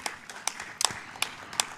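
Applause at a youth energy conference greets the panelists, heard as a small, sparse cluster of distinct claps spaced through a brief moment rather than a full ovation.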